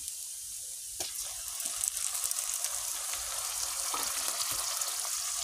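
Onions dropped into garlic already browning in a pan with whole spices, giving a steady soft sizzle with occasional stirring taps, fairly quiet and close.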